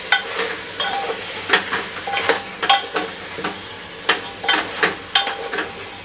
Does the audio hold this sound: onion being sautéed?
yes